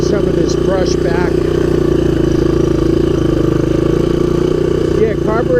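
A 1983 Honda ATC200X all-terrain vehicle, recently fixed for a seized clutch and a flooded carburetor, runs at a steady, loud, close idle. Its exhaust thrums evenly throughout, with a few faint chirps over the engine.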